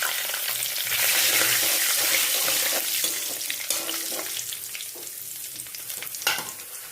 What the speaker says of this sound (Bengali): এইবার এই তেলের মধ্যে ফোড়ন দিয়ে দিচ্ছি শুকনো লঙ্কা, তেজপাতা, এলাচ, দারচিনি আর হচ্ছে জিরে।